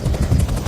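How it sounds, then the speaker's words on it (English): A patient-transport helicopter comes in to land near fire crews, its rotor a loud, steady low thumping roar that fills the moment. "as they bring this helicopter in"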